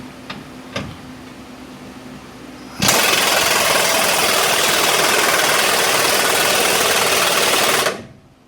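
A power tool tightens a radius arm bushing during a Rough Country lift kit install on a 1996 Ford F150. After a couple of faint clicks, it whirs loudly and continuously for about five seconds, then stops abruptly.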